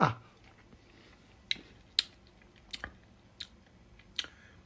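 Someone eating tomato soup at a taste test, with a few scattered wet chewing and slurping sounds spaced out over a quiet background, close up and fairly soft.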